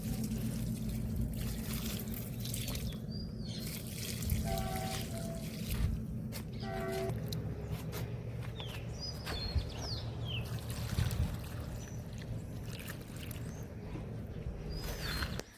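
Water pours out in a steady, soft trickle outdoors, with birds chirping faintly in the background throughout.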